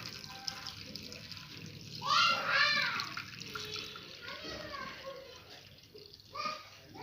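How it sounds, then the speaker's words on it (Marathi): Water splashes into a container holding leftover wheat starch paste for making kurdai, with a louder pouring burst early on and softer sloshing afterward, faint background voices. "कुरड्या करून घेण्यासाठी तर हे पाणी यामध्ये ओतून घेणार आहोत."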